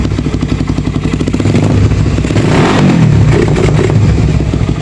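A Raider 150 carburetted motorcycle engine revving up close, loud and throaty with a rough, clattering idle that rises into repeated throttle blips, heard without any talk.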